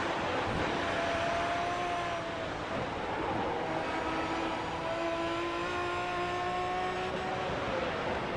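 GT1 and GT3 race cars running in traffic at Virginia International Raceway, a steady loud wash of engine roar with rising and falling engine notes from several cars passing close by.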